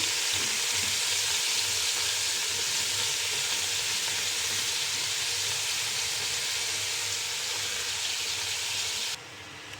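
Pieces of boiled meat sizzling and browning in a hot pan, a steady dense frying hiss that continues close and loud for nearly ten seconds, then drops slightly at the end.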